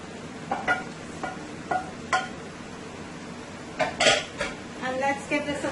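String beans, shrimp, tomatoes and potatoes are tossed in a stir-fry pan, producing a series of close metallic clanks and scrapes of a utensil against the pan, irregularly spaced with a cluster near the end.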